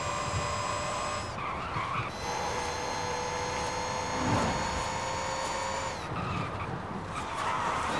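Electric Hyundai N Vision car at full throttle in Forza Horizon 5, a high whining electric motor tone climbing in pitch in two sweeps, with tire noise and a brief skid between them.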